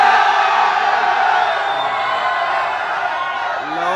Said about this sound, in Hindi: भाई होटल के बाहर भी भीड़ है, वहाँ भी भीड़ है।